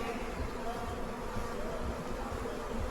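Honeybees buzz steadily and fairly close during a hive inspection among brood frames, a continuous dense drone with no pauses.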